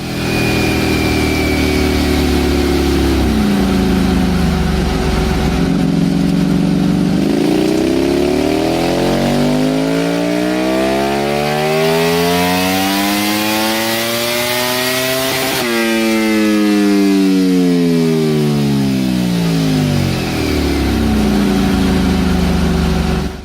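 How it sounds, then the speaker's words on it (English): A high-revving Ducati V4R superbike engine on a dyno screams up through the revs, drops back, then sweeps up and down again in long, loud pulls with no talking. "here's a clip of the V4R on the dyno as well."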